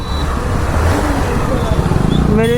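A Bajaj Pulsar NS 125 motorcycle engine drones steadily while riding, with road rumble and wind noise, the pitch climbing slightly near the end.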